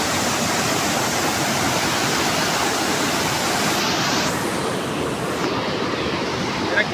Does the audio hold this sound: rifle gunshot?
no